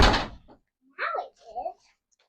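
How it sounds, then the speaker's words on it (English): A child slams a greenhouse door, giving two dull thuds about half a second apart right after a brief voice, with the second bang softer than the first. "My 6-year-old is coming into the greenhouse and she keeps slamming the door."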